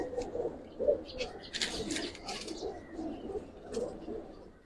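Giribaz flying pigeons coo softly in a loft, with repeated low throaty calls in a loose rhythm, faint and fairly close, plus occasional brief rustles and chirps.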